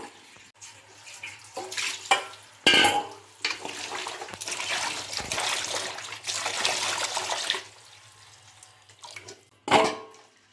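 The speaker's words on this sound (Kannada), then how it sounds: "ಶುಂಠಿ ಆದಷ್ಟು ಒಂದು 2-3 ಸತಿ ಚೆನ್ನಾಗಿ ತೊಳ್ಕೊಳ್ಳಿ, ಮಣ್ಣು ಇರಬಾರ್ದು" Ginger being washed by hand in water in a home kitchen, bursts of splashing and running water in several uneven rounds separated by quieter pauses, close and without talk.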